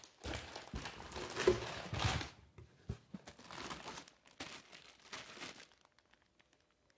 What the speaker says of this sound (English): A nice big bag of oranges.